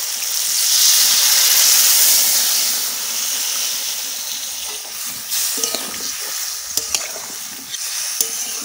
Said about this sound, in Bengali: এবার চা পাতার লিকারটা আমি দিয়ে দেবো।